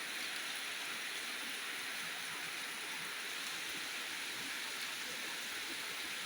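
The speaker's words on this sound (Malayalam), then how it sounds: "ഈ മഴയുടെ ശക്തി കാണുമ്പോൾ അറിയാം" Heavy rain in Kerala pours without letup, a thick continuous hiss filling the space, nearby and loud.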